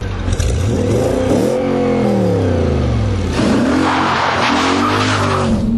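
An Audi RS4 with a 4.2 V8 and Quattro drive revs hard, its loud engine note climbing and falling through several sweeping pitch changes with tire noise mixed in, close and unbroken.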